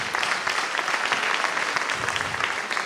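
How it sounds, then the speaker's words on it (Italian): Steady, dense clapping from a conference audience fills the whole stretch at an even level, a sustained round of applause at an emigration gathering with no voices on top. "magari meriterebbe un applauso"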